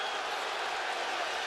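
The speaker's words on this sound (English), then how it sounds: "Crowd wanting a fumble." A football stadium crowd roars steadily and loudly at a college game between Vanderbilt and South Carolina, a continuous wash of cheering as fans react to a possible fumble.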